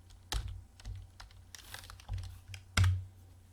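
Keystrokes on a computer keyboard, a handful of separate clicks tapped at an uneven pace, close and fairly quiet against a faint background hum.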